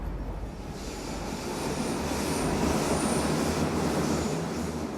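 Berlin subway train rumbling past, heard from a station near a wartime air raid shelter: a loud, continuous roar of wheels and cars with a faint high squeal, steady and close for the whole stretch.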